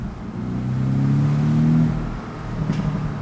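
A Porsche 718 Boxster S engine revs up with a deep, raspy growl, rising and holding for a moment before easing off, loud and close.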